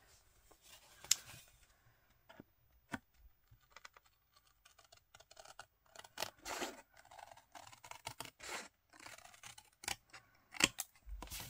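Scissors cutting out a paper card, a close series of crisp snips and paper rustles, scattered at first and then more frequent and rhythmic, quiet with no speech.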